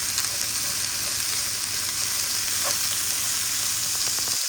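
Tofu and chopped garlic sizzle steadily in a hot pan as they brown, a dense, even crackle that holds close and loud throughout, with one brief small spit near the middle and no voices.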